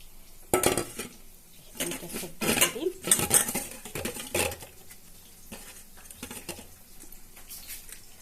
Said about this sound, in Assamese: এতিয়া মই বেচনৰ লগত মিহলি কৰি দিম